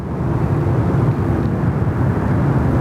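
Qantas flight 840 airliner at Sydney Airport, a steady broad engine roar holding at constant loudness throughout, fairly close, with no voices.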